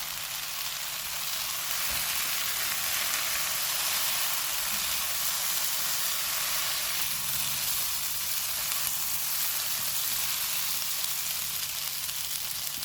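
Chatkhara kababs fry in a hot pan, giving off a constant loud sizzle with an even hiss and no talking.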